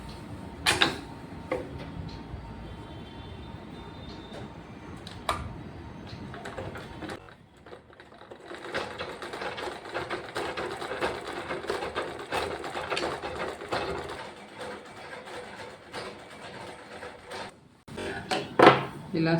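A sewing machine stitches a long frock coat, starting with a few soft clicks and handling noises, then running in a continuous mechanical whir for several seconds before stopping with a clatter.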